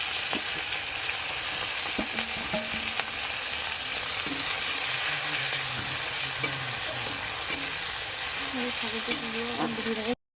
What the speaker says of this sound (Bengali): এখন দিয়ে দেবো পেঁয়াজ আর লঙ্কা